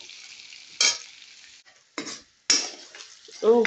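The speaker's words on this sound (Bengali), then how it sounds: "এই যে ভাজতেছি আলুটারে" Loud sizzling of potatoes frying in hot oil comes in bursts as they are stirred and tossed, with pan scrapes between the hissing swells.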